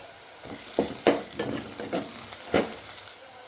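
Ginger garlic paste fries with onions in a pan for a fish curry, making a low sizzle under a series of irregular scraping and stirring strokes.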